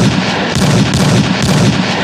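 A gunshot sound effect: dense, loud, booming bursts of gunfire follow one another every half-second or so, filling a brief stretch with no talking.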